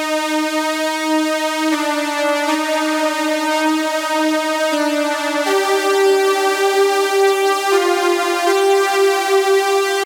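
A sustained synthesizer melody of long, held notes glides between pitches, each one ringing out smoothly into the next with a soft, lingering tail.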